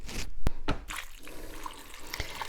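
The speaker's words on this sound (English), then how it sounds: "I'm going to get some water in that bowl, and I want it to like kind of cover up the beans." Tap water runs into a bowl of dry black beans, a soft splashing pour with a few sharp clinks and knocks, close and fairly quiet.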